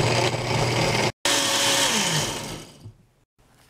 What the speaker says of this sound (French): On réduit en purée.